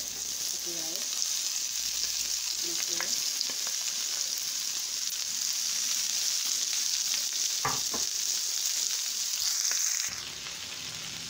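Banana and egg fry steadily in a pan with oil, a continuous close sizzle running throughout with occasional stirring clinks, and the sizzle quiets near the end.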